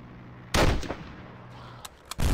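Rifle grenade blasts and gunfire in a first-person shooter video game: a loud close explosion burst, a couple of fainter follow-up pops, then two sharp shots and another heavy blast at the end.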